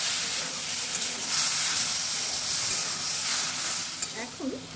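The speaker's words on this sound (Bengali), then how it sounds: "এবার এতে আমি অল্প একটু জল দিয়ে দিচ্ছি।" Water hits a hot pan of cumin, turmeric and green chili spice mixture, giving a loud, close hiss and sizzle that settles over a few seconds, with a brief clink near the end.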